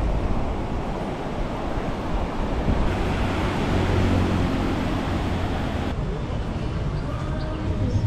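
Ocean waves at Kata Beach, Phuket, during the monsoon surf season, a continuous loud roar of surf mixed with wind buffeting the microphone, steady throughout.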